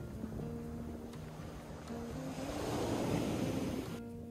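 Surf on a sandy beach along a coastal walking trail rolls in as a steady wash of broken waves, swelling louder midway as a wave spills close by, with light wind over the microphone.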